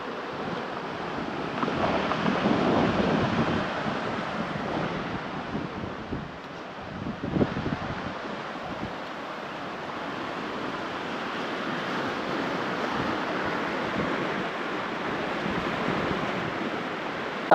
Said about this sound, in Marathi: तुम्हाला दाखवतो पुला खालून किती पाणी जात आहे. ते बघा, खूप पाणी.